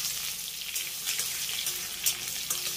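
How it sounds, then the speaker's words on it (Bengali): Chopped onions fry in hot oil with cumin in a pan, giving a close, steady crackling sizzle with small bursts of spitting and no talking. "এবার পেঁয়াজটাকে আমি হালকা করে একটু ভেজে নেব"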